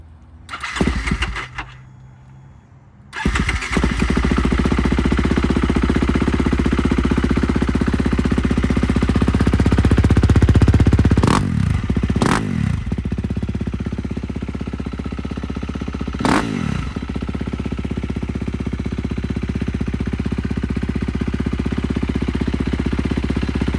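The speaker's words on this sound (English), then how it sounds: "show you guys how the bike sounds with the stock pipe and muffler" A motorcycle fitted with its stock exhaust pipe and muffler cranks briefly, catches and settles into a steady, close idle, with a few sharp revs blipping up and falling back.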